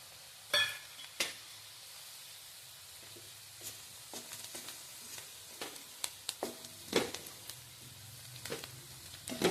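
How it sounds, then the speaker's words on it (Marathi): Masala spice powder roasting in oil for dry mutton, a faint low sizzle broken by scattered sharp scrapes and clicks of a spoon stirring the pan. "मसाला तेलामध्ये भाजून घ्यायचा आहे अर्धा मिनिट"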